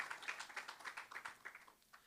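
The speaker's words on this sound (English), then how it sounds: "Can we appreciate it once again with a round of applause?" A faint, brief patter of audience applause at a conference session, scattered claps quickly fading out.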